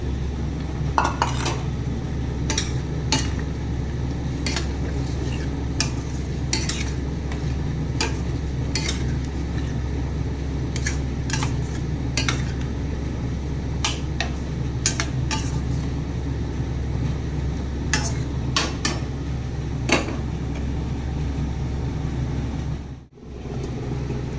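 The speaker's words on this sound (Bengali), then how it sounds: "চিকেনটা একদম লোতে রেখে, গ্যাসের ফ্লেমটা লোতে রেখে কষাচ্ছি" Chicken sautés in a pan over a low gas flame, with a steady soft sizzle and a hum underneath, while a utensil scrapes and clinks against the pan in irregular taps, close by and without talk.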